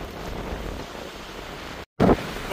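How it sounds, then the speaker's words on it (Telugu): Strong wind at a lake buffets the microphone in a continuous rough roar, with a brief cut near the end and a louder gust after it. "సో మీకు ఇక్కడ విండ్ తెలుస్తుందో లేదో అర్థం కావట్లేదు, చాలా దారుణంగా ఉంది గాలి అయితే."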